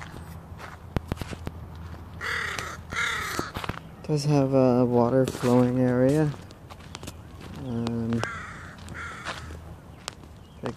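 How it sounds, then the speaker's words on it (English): Crows caw in a park on a hike, with a few loud, harsh, repeated calls standing out over crunching footsteps, and someone speaks briefly between them. "Oh, another crow."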